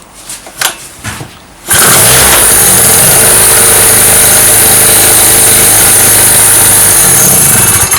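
A two-stroke petrol generator, model E950, fitted with a Yamaha ignition module, starts abruptly after a few faint knocks and then runs loudly and steadily with a buzzing, harsh drone right up close, no voices.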